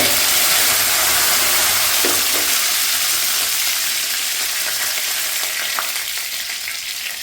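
Cumin seeds and curry leaves sizzle loudly in hot oil for a dal curry, a dense, close, continuous hiss that eases slightly over time, with faint stirring taps and no speech.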